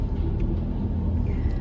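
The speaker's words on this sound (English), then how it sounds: "So we're now in the train" A steady, heavy low rumble fills a car parked aboard the Eurotunnel shuttle train as it carries vehicles between France and England, continuous and close throughout, with no voices.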